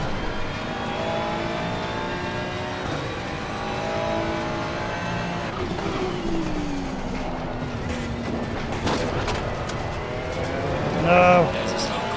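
A Ferrari 296 GT3 race car at Imola in the Assetto Corsa racing game drones and shifts through the gears, its engine pitch rising and falling, loud and continuous, with a short burst of higher whine near the end.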